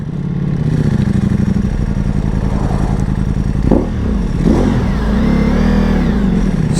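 Ducati Multistrada V4 Pikes Peak with an Akrapovic exhaust revving loudly up close, its deep engine note rising and falling through a steady throttle blip midway.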